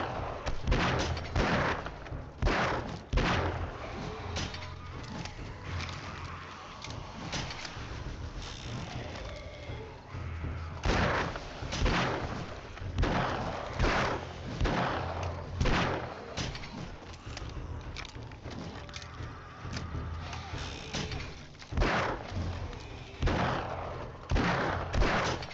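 Gunfire in the survival video game 7 Days to Die: repeated sharp shots crack out at irregular intervals throughout, moderately loud over a low game background.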